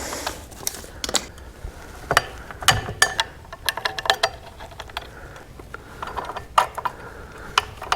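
Pressure plate bolts are started by hand during a Tremec TKX five-speed transmission install on a Camaro, giving close, irregular metallic clicks and ratcheting ticks scattered over a quiet background.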